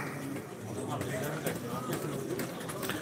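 Pigeons coo softly under a steady background hum, with low murmuring calls and a few faint rustles of wings or feet.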